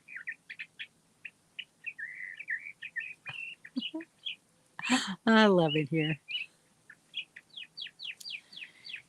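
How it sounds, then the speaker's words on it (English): Small birds chirp and tweet in quick bursts throughout, with a person speaking briefly in the middle. "Do you hear the bird?"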